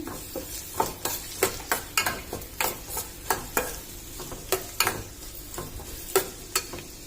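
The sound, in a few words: green chillies, onion and curry leaves frying in a pan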